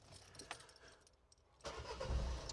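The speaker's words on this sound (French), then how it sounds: "Donc on va mettre le véhicule en route" A car engine cranks and catches in a garage, a faint quiet lead-in giving way to a sudden louder rumble that settles into a low idle nearby.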